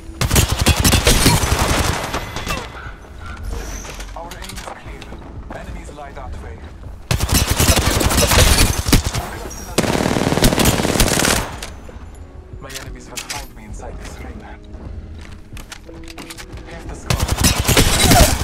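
Long sustained bursts of automatic gunfire in the video game Apex Legends, loud and close, broken by pauses and shorter volleys, with people talking over the action.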